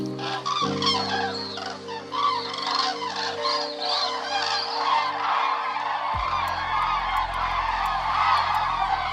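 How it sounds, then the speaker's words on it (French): Common cranes flying in a V formation give repeated honking, trumpeting calls that continue throughout, set over a steady background music bed. "on voit des oiseaux qui volent en V avec ce cri qui est vraiment caractéristique, presque à coup sûr, c'est la grue cendrée"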